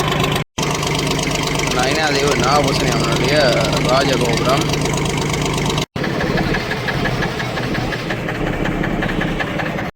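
A boat engine runs near the Nainativu jetty, a steady mid-pitched drone that continues throughout while someone talks over it close by.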